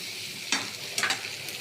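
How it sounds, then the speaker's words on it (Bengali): Ginger paste frying with onion, taro and shrimp in a pan, a soft steady sizzle broken by two brief bursts of stirring scrape, near and fairly quiet, no talking. "আদা বাটাও দিয়ে দিলাম, এটাও এর সঙ্গে ভালো করে একটু ভেজে নেব।"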